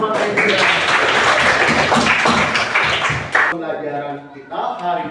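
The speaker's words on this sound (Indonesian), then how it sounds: "Tepuk tangan buat istirahat." Students in a classroom clap together in a dense burst of applause that lasts about three seconds, then cuts off as a voice carries on speaking.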